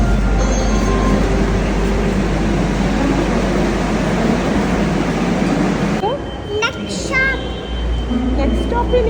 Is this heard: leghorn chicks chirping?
no